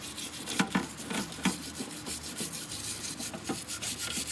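Stiff brush scrubbing caked fouling off a heavily used Glock pistol, a steady scratchy rubbing close by with repeated strokes and a few sharper scrapes, no talking.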